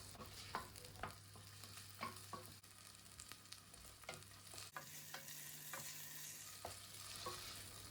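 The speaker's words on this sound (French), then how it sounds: "Je vais faire revenir environ quelques minutes, toutefois en mélangeant régulièrement." Green onions sautéing in olive oil in a saucepan, a steady close sizzle broken by intermittent scrapes and clinks of stirring throughout.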